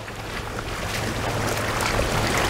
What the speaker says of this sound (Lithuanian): Dar ateina bangų tuoj.